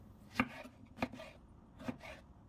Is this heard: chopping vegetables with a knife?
yes